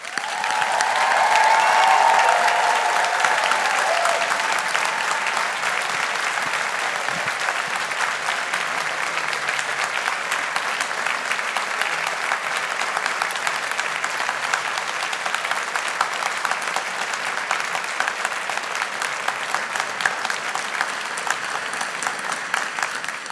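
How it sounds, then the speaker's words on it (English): Long, sustained applause from a large audience at a Strathclyde Faculty of Engineering graduation ceremony for the class of 2023, loudest at the start and then settling into steady, dense clapping that continues for over twenty seconds. "why don't we give the class of 2023 a big round of applause?"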